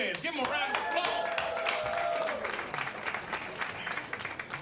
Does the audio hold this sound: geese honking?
no